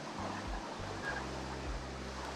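The Rhine Falls at Schaffhausen send up a steady, broad roar of rushing water heard from a distance, with low wind buffeting against the microphone.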